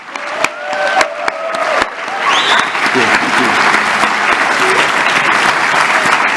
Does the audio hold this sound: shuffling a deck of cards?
no